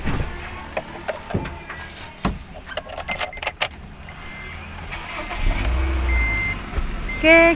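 Car being entered, with keys jangling, door and seat thumps, then an engine starting and idling as a low steady rumble, with a short chime near the end.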